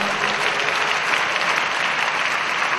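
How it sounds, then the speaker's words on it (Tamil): A congregation at a Sunday church service claps loudly and steadily, a dense, even patter of many hands lasting a few seconds. "நல்ல கைதட்டுங்க பார்க்கலாம்."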